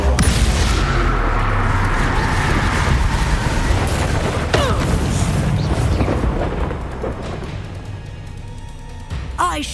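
A Confringo explosion spell in Hogwarts Legacy, heard as a loud, rumbling blast with crackling debris. It stays sustained and gradually fades over several seconds, then ends in a final sharp pop.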